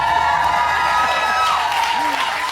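Talk show studio audience applauding continuously, with crowd noise and a voice speaking over the clapping.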